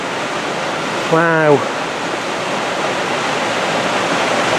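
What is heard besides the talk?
waterfall at Hanging Lake, Glenwood Canyon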